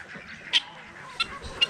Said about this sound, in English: Chickens, hello?